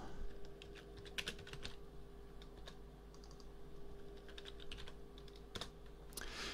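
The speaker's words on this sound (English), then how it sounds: "double click on the track name and enter a new name with the keyboard" Clicky computer keyboard typing with quick irregular bursts of keystrokes, close and fairly quiet, as a track name is entered in Renoise music software on a desktop setup.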